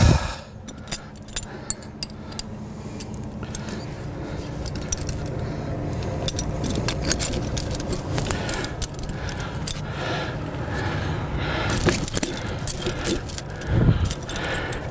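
Snow chains rattle as they are fitted onto a vehicle's dual tires. Continuous metallic jangling and clinking, close and steady, with scattered sharper clanks and no talking.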